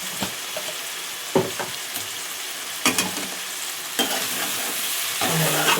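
Stirring and sizzling as coconut powder is mixed into a frying chicken curry with potato and chana dal, with scraping strokes repeating at intervals over a steady close sizzle.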